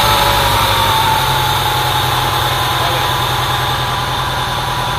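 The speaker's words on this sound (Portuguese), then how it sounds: "Eu vou estar funcionando esse motor, acredito que ele deve funcionar." Car engine running without lubricating oil, a loud steady idle with a continuous low rumble and constant mechanical whine, no talking.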